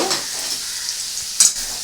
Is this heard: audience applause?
no